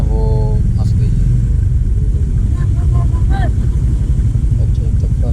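A stuck motorcycle on a wooden bridge near a waterfall in Jagran Valley, Kashmir, its engine running with a steady low rumble and brief revs while it is pushed, under people talking.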